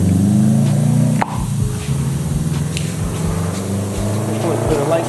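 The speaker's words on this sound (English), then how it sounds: "So spray it down." Adhesion promoter sprays onto a plastic bumper of a 1986 Mazda RX-7 FC in a steady hiss for a few seconds, briefly cutting out, then continuing over a low mechanical hum and faint background noise.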